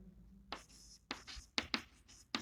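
Pen or pencil writing on paper during a maths lesson on prime factorization, heard as several short scratchy strokes in separate bursts, close and fairly quiet, with no talking.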